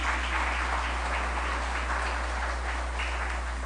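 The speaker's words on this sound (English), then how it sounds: "Could we give him a round of applause, please?" Audience applause at a community crime-watch event in a banquet hall, a continuous muffled patter of clapping over a strong steady electrical hum.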